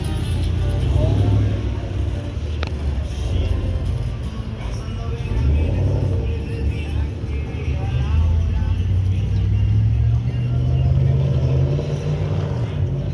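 A pickup truck doing a burnout on a neighborhood street, its engine holding a loud, steady roar with rumbling low end for the full stretch, surging slightly near the end, while people talk over it.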